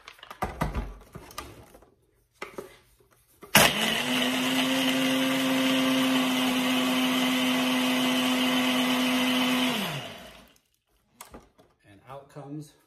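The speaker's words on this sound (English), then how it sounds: "And onto the blender it goes." A blender crushes a smoothie with ice cubes, whirring loudly and steadily for about six seconds, its motor holding one pitch before winding down, with brief speech before and after.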